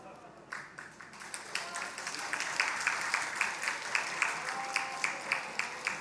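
Church congregation at a Sunday afternoon service clapping, the applause building steadily, with a few individual claps standing out in a loose rhythm. Voices murmur and call out beneath it.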